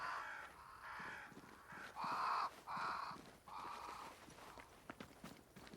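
Crows cawing in the video game Banishers: Ghosts of New Eden, four or five harsh caws in a row, fairly close, over soft footsteps on the ground.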